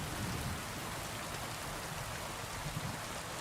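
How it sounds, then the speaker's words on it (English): Steady rain falls in the medieval video game Kingdom Come Deliverance 2, an even, dense hiss of drops on surfaces, moderately loud and unbroken, with no talking. "But I love the sound of rain."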